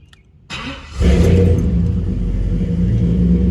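A car engine starts and settles into a steady, loud, low rumble close by as the car is driven up a driveway, holding its idle drone throughout.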